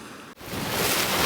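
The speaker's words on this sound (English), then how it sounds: "bloody wind, go away." Strong wind in Fuerteventura buffets the microphone with a loud, rushing roar that briefly dips, then surges back and holds steady, with no one talking.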